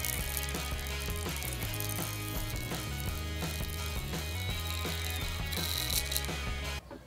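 Homemade DC electric motor built from a coil and magnet, spinning at high speed with a dense, continuous rattling whir and rapid mechanical clicking, loud and close, cutting off abruptly at the end.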